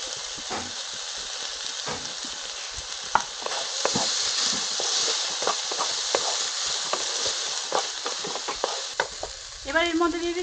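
Spiny gourd seeds sizzle and crackle in hot oil in a frying pan while being stirred, a steady close frying hiss broken by scraping spoon strokes and a few sharper clinks.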